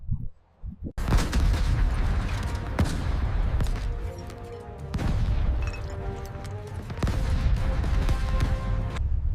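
Battleship secondary guns fire in a naval warfare video game, a barrage of loud, close booms and cracks following one another rapidly over several seconds with dense rumbling in between.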